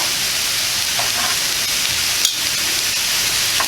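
Shrimp sizzle and fry steadily in a nonstick pan, loud and close, with brief metallic clicks as metal tongs stir and turn them.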